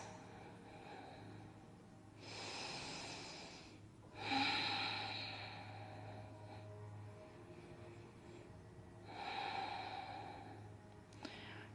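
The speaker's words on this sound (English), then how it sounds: "Taking a few deep breaths." Slow, deep breaths during a gentle back and neck yoga stretch, each long inhale and exhale swelling softly, about three breaths over the stretch with a low steady hum underneath.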